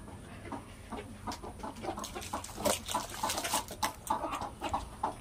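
Free-range country hens cluck softly and scratch while pecking at eggshells and rice, a close, uneven stream of short calls and scuffles, with no talk.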